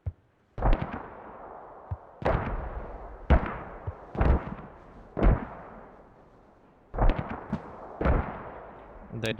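Mortar shells landing in the Squad military video game during a competitive match on the Chora map, a series of heavy booming impacts spaced a second or two apart, some doubled, with voices talking over the barrage.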